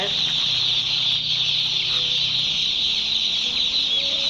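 A dense, continuous chorus of many day-old broiler chicks peeping in a poultry farm, loud and steady, with a faint voice murmuring low underneath.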